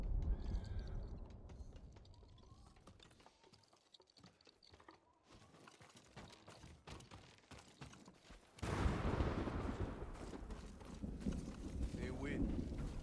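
Horse hooves clip-clopping in Ghost of Tsushima, quick irregular patter of hoofbeats at moderate distance under steady talk, with a louder rushing stretch toward the end.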